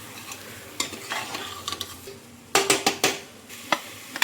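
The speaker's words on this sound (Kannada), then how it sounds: "ಇದನ್ನು ಹಾಗೆ ಚೆನ್ನಾಗಿ ಮಿಕ್ಸ್ ಮಾಡ್ಕೊಳ್ಬೇಕು ಟೊಮ್ಯಾಟೊದೊಂದಿಗೆ. ಮಸಾಲ ಕೂಡ ಸ್ವಲ್ಪ ಫ್ರೈ ಆಗಬೇಕು." Tomatoes with coriander powder and masala fry in a pan while being stirred, giving a soft sizzle under repeated scraping and clinking spoon strokes, close and clear, with no talking.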